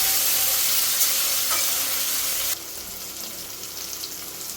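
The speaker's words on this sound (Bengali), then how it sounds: "ভাজা ভাজা করে নেবো।" Onion, capsicum and tomato frying in a pan give a loud, continuous hiss that suddenly drops to a softer, steady sizzle halfway through.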